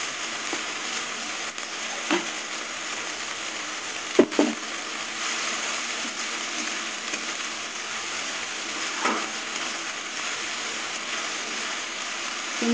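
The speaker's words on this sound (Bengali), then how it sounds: "এবার মশলাটা কিছুক্ষণ কষিয়ে নেব" A paste of ground ginger, fennel and cumin fries in a pan with softened onion, giving a steady, even sizzling hiss broken by a few soft clinks of stirring.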